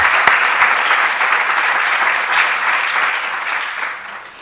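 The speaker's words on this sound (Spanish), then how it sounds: "yo les pido un aplauso para este equipo maravilloso" Sustained audience applause fills a hall at a morning gathering, dense and steady clapping from a large crowd, fading slightly toward the end, with no talk over it.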